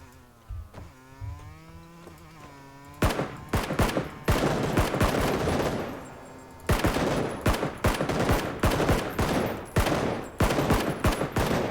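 Bursts of gunfire in the PUBG battle royale game, with quick cracks and rapid volleys in two dense clusters separated by a brief lull. A tonal whine is heard beforehand, with no talking.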